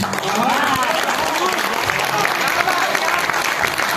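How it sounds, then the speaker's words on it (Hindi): An audience in a Mumbai auditorium applauds at a comic poetry gathering, steady dense clapping throughout, with voices heard over it. "जोरदार तालियां भाई"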